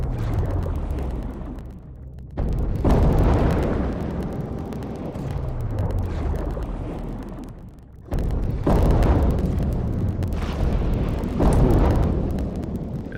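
Loud video-game rocket launcher blasts, deep booming explosions that swell and roll out, two big blasts with rumbling decay filling the stretch, no talking.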